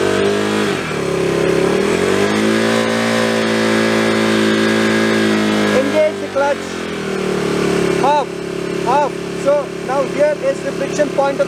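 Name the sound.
motorcycle engine revving during launch in first gear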